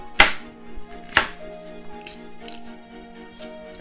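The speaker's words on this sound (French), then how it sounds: "il faut épépiner la pomme, donc je vais la couper en deux" A knife cuts through an apple on a board with two sharp, close chops about a second apart. Quieter taps and handling sounds follow over a faint steady hum.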